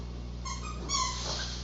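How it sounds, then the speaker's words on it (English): A pet dog named Maya lets out a few short, high whining yips and whimpers close by, over a low steady electrical hum. "that's my dog going crazy"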